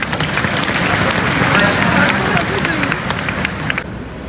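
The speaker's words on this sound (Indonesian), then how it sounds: "Bagus, tepuk tangan." Audience applause at a BUMN (Indonesian state-owned enterprise) joint recruitment launch event at GBK, a dense continuous wash of clapping from a large crowd with background babble, ending abruptly near the close.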